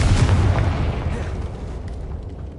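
A Confringo spell in the Hogwarts Legacy video game detonates with a deep, loud booming blast that rumbles and slowly fades over a couple of seconds, without talk.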